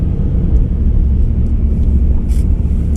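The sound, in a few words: four-wheel drive car driving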